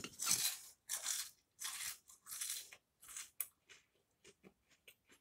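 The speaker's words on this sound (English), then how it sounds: "This is just too crunchy. Just listen." Loud, close crunching of Reese's Puffs Bunnies cereal being chewed in irregular bites, crisp at first, then tapering into smaller, fainter crunches.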